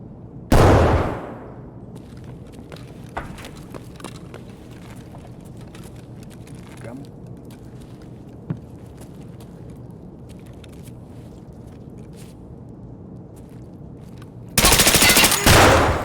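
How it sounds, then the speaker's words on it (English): Gunfire in the video game Escape From Tarkov: a loud burst at the start and a sustained loud volley near the end, with scattered faint shots and background noise between. "Why are you shooting at me?"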